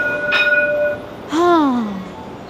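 A tram in Dubai gives a brief tonal horn note, then a louder swooping whine as it moves off, heard close with a low rumble underneath.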